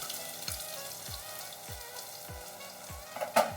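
Crushed garlic and chopped onion fry in oil in a village-style Bengali kitchen while taro leaf mash is being made, a steady crackling sizzle marked by soft periodic thumps of a utensil and a sharper clatter near the end.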